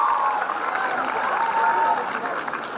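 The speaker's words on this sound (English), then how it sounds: "Please give ma'am a huge round of applause for a brilliant job." An audience at a choir concert applauds the conductor with sustained, even clapping. The sound stays steady and fairly full throughout, with a faint voice or tone running beneath it.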